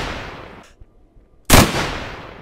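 A single sharp, loud sniper rifle shot rings out in the video game DayZ, a sudden crack with a decaying tail that follows a stretch of quieter ambient game sound.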